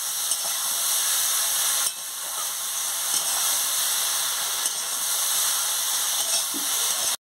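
Mixed vegetables frying in a pan with turmeric, chili powder and mustard paste, a steady close sizzle and hiss that runs the whole time, with small stirring knocks and no voices.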